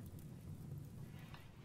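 Steady rain and a low thunder rumble from a flash storm in the colony game RimWorld, a faint continuous wash with no distinct crack.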